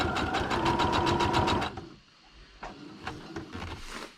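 A sewing machine stitching fabric onto paper runs in a fast, even mechanical rattle for about a second and a half, stops, then restarts with a few shorter, lighter bursts of stitching.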